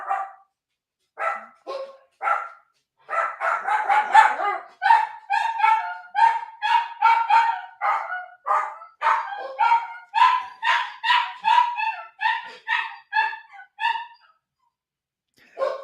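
Two dogs barking nearby in repeated bursts, mixing deeper woofs with higher yips, pausing briefly and then starting again, loud and clear over a quiet background with no talking.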